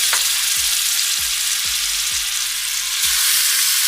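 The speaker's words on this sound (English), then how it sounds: "Now let's get to searing the meat." Beef short ribs sear in olive oil over medium-high heat, giving a loud, steady close-up sizzle with a series of soft, regular thumps beneath it and no speech.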